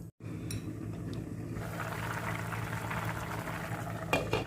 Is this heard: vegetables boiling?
yes